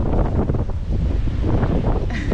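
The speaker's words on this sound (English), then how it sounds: "It is so windy. It is wicked windy out today." Heavy wind by the ocean buffeting the microphone, a loud low rumble with gusty fluctuations, filling the whole moment without pause.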